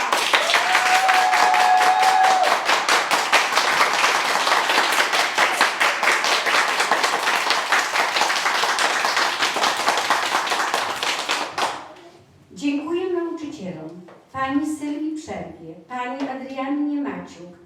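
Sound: audience applauding after kindergarten nativity play

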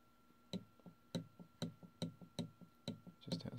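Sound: rattling of Waterpik flosser armature moving up and down

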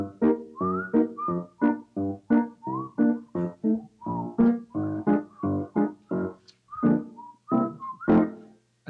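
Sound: person whistling a TV theme tune

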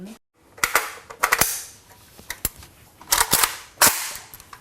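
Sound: gunshots at a shooting range

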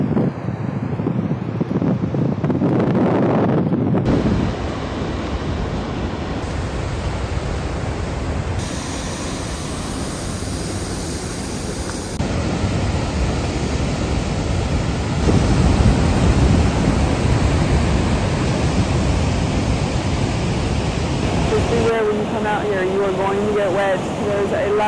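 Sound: large waterfall on Iceland's Golden Circle

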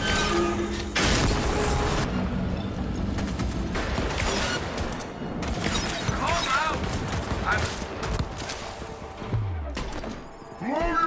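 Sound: explosion in video game Cyberpunk Phantom Liberty

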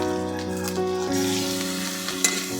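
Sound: ginger garlic paste frying with onions in a pan

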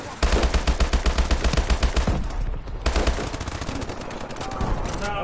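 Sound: gunfire in a video game

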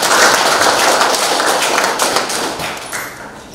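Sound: audience applause for guests

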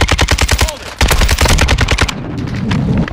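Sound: gunfire in a video game

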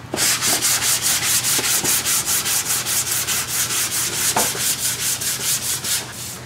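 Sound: sanding guide coat on primer of Toyota MR2 body

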